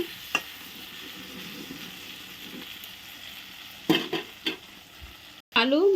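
Potatoes frying in a pan, a low continuous sizzle broken by a few sharp clacks of a spatula against the pan and a brief louder clatter at the end.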